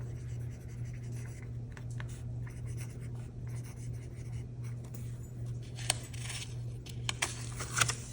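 A pen writes on a handmade card made from magazine paper, soft continuous scratching strokes close by over a low steady hum, with a few light taps near the end.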